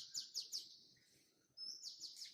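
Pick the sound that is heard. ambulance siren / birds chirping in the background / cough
birds chirping in the background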